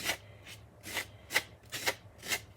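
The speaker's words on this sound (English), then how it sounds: "you go back and you scrape whatever needs to be scraped off" Fake frosting being scraped off a foam cake form in a Dollar Tree craft project: five rasping strokes in a steady rhythm, close and fairly quiet, with no talking.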